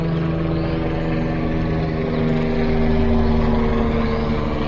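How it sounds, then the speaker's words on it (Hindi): A helicopter's steady, droning rotor and engine roar holds at a constant loud level throughout over the Deodar Kaudia forest in Kanatal, with no voices. "ये देखिए ये जा रहा है हेलीकॉप्टर"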